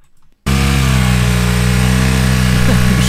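After a brief quiet moment, a motorcycle engine suddenly roars close by and holds a loud, steady, throbbing rumble to the end.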